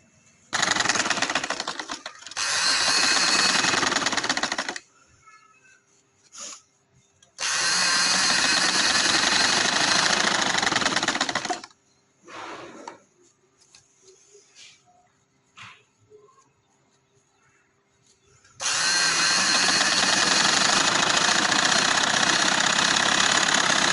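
A sewing machine stitching a casual trouser in long, steady motor-driven runs of several seconds each, loud and close, broken by quiet pauses filled with small handling clicks.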